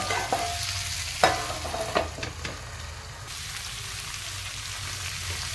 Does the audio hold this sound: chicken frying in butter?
yes